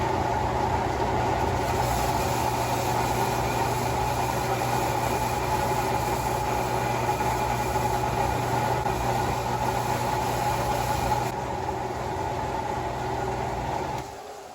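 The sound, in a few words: horizontal belt sander with old motor running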